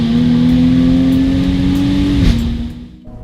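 A Jaguar F-Type Coupe V6 holds a loud, close, droning exhaust note with a strong tonal hum, which then drops away and fades out near the end.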